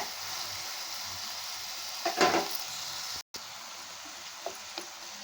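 Chicken pieces drop into a pan of sautéed onion and tomato and sizzle steadily, with a louder burst of frying around the middle, a momentary dropout, then a few light stirring clicks, close and fairly quiet.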